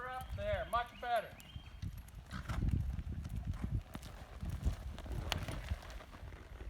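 A horse lopes through a cloverleaf exercise, its hooves thudding in a steady, muffled rhythm close by; a brief voice sounds at the start.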